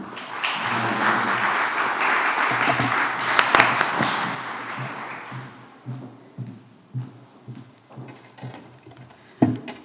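An audience claps for a co-author at a book presentation, loud full applause for about five seconds that thins into scattered claps, taps and light murmuring.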